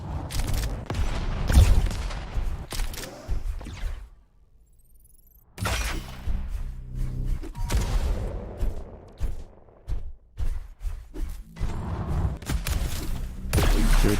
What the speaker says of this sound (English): Good rocket. Good rail.